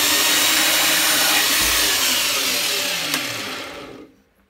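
A Parkside PMB 1100 A1 metal band saw cuts through an 18 by 20 mm piece of wood, a steady loud broadband motor and blade roar that holds for about four seconds and then cuts off abruptly.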